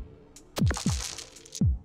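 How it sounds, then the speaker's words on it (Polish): Heartbeat effect from the dice-battle video game Dicey Dungeons: three or four deep, close thumps with brief bright clicks, irregularly spaced over a steady game-sound bed, with no talking. "Będzie bicie serca i tak dalej"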